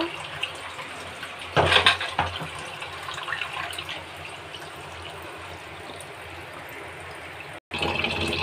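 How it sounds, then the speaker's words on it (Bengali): Running tap water streams steadily while a pile of plates and bowls is washed after a meal, with a burst of clattering and splashing early on and a brief cut near the end. "এখন থালা বাটি এতগুলো জমা হয়েছে, এখন এগুলো সব পরিষ্কার করব"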